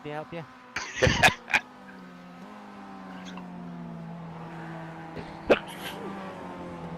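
A person sneezes up close in a short, sharp burst, with another burst a few seconds later. A steady engine hum continues underneath throughout.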